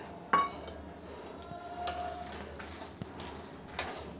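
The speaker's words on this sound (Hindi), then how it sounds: "अब हम इसमें किशमिश, ये तरबूज के बीज, और मखाना डाल के इसको अच्छे से मिक्स करेंगे।" Raisins, watermelon seeds and makhana are stirred into namkeen in a pan: scattered metallic clinks and scrapes, about four distinct knocks spread out over a quiet, hissy background.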